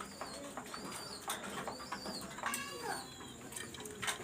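Pigeons coo faintly in a loft, with soft repeated calls, a few wing flutters and quiet background noise.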